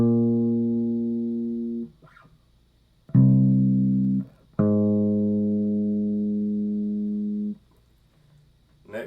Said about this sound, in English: The next interval is called the minor sixth, and it is 8 half steps away from the original note.